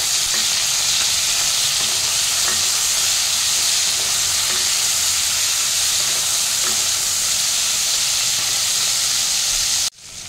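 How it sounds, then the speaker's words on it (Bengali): Crab pieces fry in a pan for curry, giving a steady, loud sizzle with soft stirring scrapes throughout, then cutting off abruptly near the end. "খুব ভালো করে এটা ভেজে নিতে হবে।"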